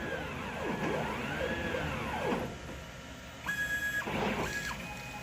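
A CNC plasma cutting table makes a dry run, steady machine whir with sweeping rising and falling motor tones as the gantry moves, then steady high electronic tones, alone and fairly close.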